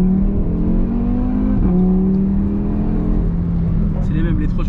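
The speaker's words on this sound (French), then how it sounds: "il s'essouffle plus le moteur, du coup, jusqu'à 7000 tours, ça pousse quoi" An Audi RS3 tuned to Stage II revs hard from inside the car, its steady engine drone climbing in pitch with a brief dip as a gear changes. A voice speaks briefly near the end.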